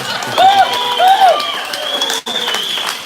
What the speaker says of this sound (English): How about a round of applause for Camp Quality, ladies and gentlemen?